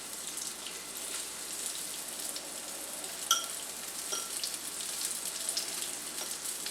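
Cornstarch-coated redfish fries in a pan, giving a steady, soft crackling sizzle with scattered small pops and one sharper spatter about midway, heard alone without talk.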